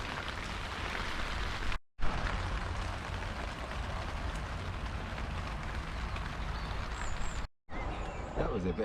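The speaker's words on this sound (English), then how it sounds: "That was a bit of a downpour." Heavy rain pours down in a steady, loud hiss close by, broken by two short silent cuts, with no voices.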